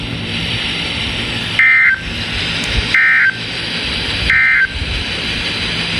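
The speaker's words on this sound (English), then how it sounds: "And the test of the National Weather Service weather radio warning alarm." Three short, loud electronic attention-tone bursts from a National Weather Service weather radio warning alarm test, evenly spaced about a second and a half apart over a steady hiss of broadcast background noise.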